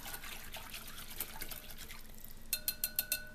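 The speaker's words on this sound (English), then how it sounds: "We're going to give it one more quick stir here. Get those grinds moving along." Cold brew coffee grounds steeped in water are stirred, giving a soft continuous liquid swish followed by a run of five quick sharp clinks or taps near the end.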